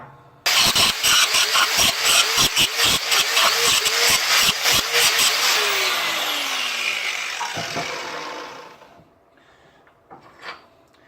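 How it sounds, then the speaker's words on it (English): An angle grinder works around the gusset ends of a custom-width trailer axle, starting with a series of rhythmic, loud rasping bursts and then a continuous grinding roar that winds down and fades, leaving a few faint clanks. "we've ground all the way around the perimeter of the gusset ends here"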